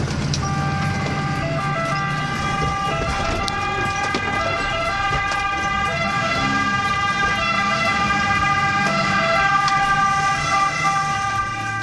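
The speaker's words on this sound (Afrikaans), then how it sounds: "Kom ons luister gou, hoe klink 'n brandweersirene?" Fire engine siren wailing steadily from a road vehicle, a continuous, loud, sustained tone with traffic rumble underneath, no talking.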